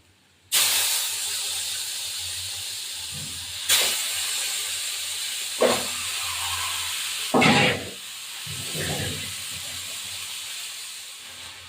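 Rohu fish pieces dropped one after another into hot oil, a loud hiss that bursts in with each addition and settles into a steady sizzle, no talking.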